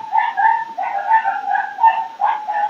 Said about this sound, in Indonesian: Yang saya dengar itu hanya ada suara gonggong.